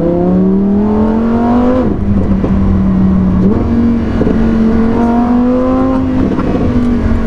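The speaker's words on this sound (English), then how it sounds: "Every time you go near the accelerator, there's a huge..." A Lamborghini's engine pulls hard while driving on a narrow road, a loud steady drone that climbs in pitch, dips at a gear change around two seconds, then rises again, with no talking over it.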